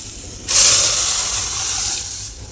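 Sambar poured out of a pressure cooker into another vessel: a sudden rush of liquid starts, then settles into a steady, close pour that tapers off near the end.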